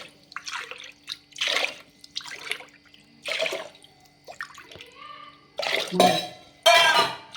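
Raw rice and moong dal being washed in a vessel, with repeated splashes and swishes of water and grains stirred by hand, close up, interrupted by clinking of the pot.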